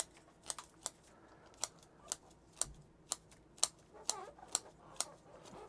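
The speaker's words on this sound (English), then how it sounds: "I'm going to come around here and cut off the extra roots that I don't think we're going to need." Scissors snip through the excess roots of a bird's nest spruce bonsai, giving about a dozen sharp, crisp clicks at an uneven pace. The cuts are close and fairly quiet, with no talking.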